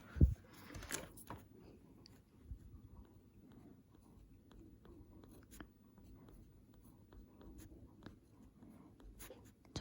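A thick drawing pen scratches across paper, writing a sentence in quiet, faint irregular strokes with small taps and pauses.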